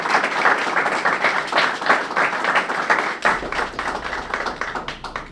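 Applause for a departing golf coach at a Carson-Newman women's golf press conference, loud and close, dense clapping from a room of people continuing steadily for several seconds.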